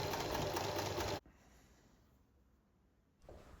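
A sewing machine stitches Union Flag fabric pieces with a loud, fast, steady whirr for about a second before stopping abruptly. A quiet pause follows, then a brief restart near the end.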